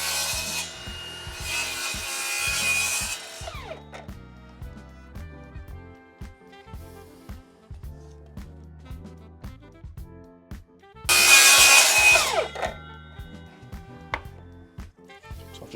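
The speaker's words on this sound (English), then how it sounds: "I'm going to cut this first piece to size with an external mitre cut back on either end" A hand saw cuts an external mitre into a length of wooden skirting board in two loud bursts of rasping strokes, the first about three seconds long and the second shorter, with quieter knocks and handling between them.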